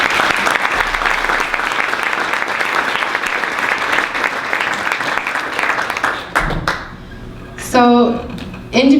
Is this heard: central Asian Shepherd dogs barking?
no